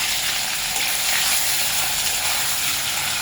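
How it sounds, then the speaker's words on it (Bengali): Paneer pieces frying lightly in a pan with spice masala produce a dense, even, continuous hiss and sizzle, loud and close, with no voices. "তো পনিরটা এখন হালকার মতন ভাজবো।"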